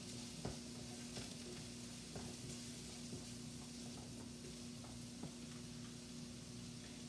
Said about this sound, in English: onion into the wok